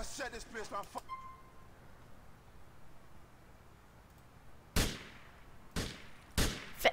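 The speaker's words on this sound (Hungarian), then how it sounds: "Ó, gyerekek, itt lövöldözés lesz." Gunfire in the video game GTA IV: after a second of talk, three sharp, loud shots ring out alone at irregular intervals over a quiet background.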